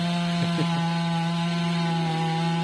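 A chainsaw engine runs at a steady, even drone, close by and fairly loud, with no change in pitch and no voices.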